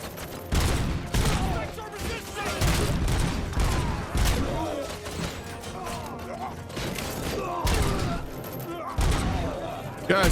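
Rapid bursts of gunfire crack through a firefight in the video game Robocop: Rogue City, repeated loud volleys with mechanical clunks and thuds between them, while voices talk over the shooting.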